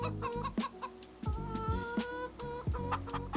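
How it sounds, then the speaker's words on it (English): Chickens in the farm video game Farming Simulator 25 cluck repeatedly in short, close bursts, several birds overlapping over a steady background bed with a brief tonal chime. "Hey, chickens, how you doing?"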